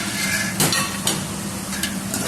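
Spices are stirred into chicken karahi frying in a pan, giving a steady sizzle with a few sharp scrapes and clinks of the spoon against the pan.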